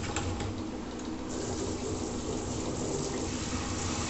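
Water running from a tap into a kitchen sink during cleaning, a steady, full rushing splash that stays constant and close throughout with no talking.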